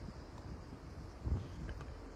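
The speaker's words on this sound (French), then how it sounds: "Il y a pas mal de vent" Gusty wind on an outdoor tennis court, a steady low rumble buffeting the microphone with a stronger gust midway, no talking.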